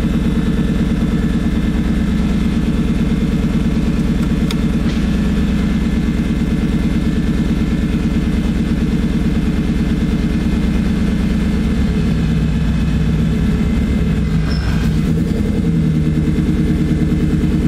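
Toyota MR2 engine running steadily while driving with a new clutch, a loud continuous low drone heard from inside the cabin with no talking.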